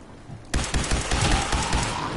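Rapid automatic gunfire from Fallout 4 bursts in abruptly after a quiet moment, then continues as a loud, steady stream of close shots.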